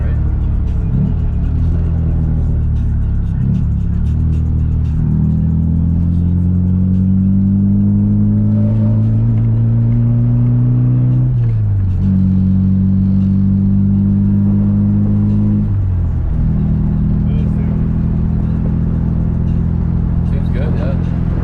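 A Volvo 240 drives along with a steady, loud engine drone that climbs in pitch and drops back twice as it shifts gears, and voices talk over the cabin noise.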